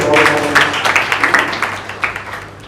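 A room full of people applauds at a school English declamation contest, greeting a newly introduced jury member. The clapping is steady and dense at first, then thins out and fades toward the end.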